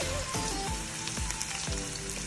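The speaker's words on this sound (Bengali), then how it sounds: "পেঁয়াজটাকে হালকা ভেজে নিব" Onion frying lightly in oil in a pan, a steady soft sizzle with faint crackles and occasional pops, close up and alone.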